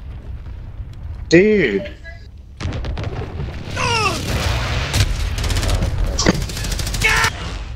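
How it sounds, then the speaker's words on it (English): Enemy precision airstrike explosions boom and rumble in a multiplayer shooter, with heavy blasts and gunfire-like crackle building over several seconds while players talk and shout. "Enemy precision airstrike."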